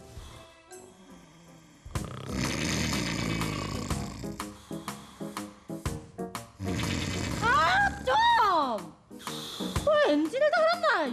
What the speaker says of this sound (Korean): 아빠의 코 고는 소리였던 거였어 얘.